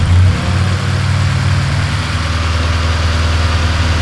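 A Honda Civic Type R engine at a night car meet settles into a steady idle, a loud, close, even rumble with a brief louder surge at the start.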